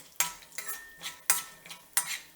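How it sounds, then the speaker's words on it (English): Spices hit hot oil in a pan on medium-high heat while a utensil stirs, giving four sharp, close scraping strokes spaced evenly over a light sizzle. "So I'm going to add my spices and let them fry up a little bit"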